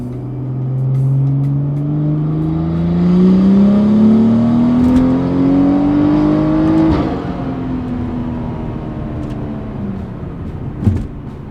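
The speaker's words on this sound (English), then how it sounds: "put a little pop, little burble pop in there for you guys" A tuned car engine revs steadily from about 3,000 to 6,500 rpm, pitch climbing over several seconds before dropping off, with a single exhaust pop near the end; loud, close and without talk.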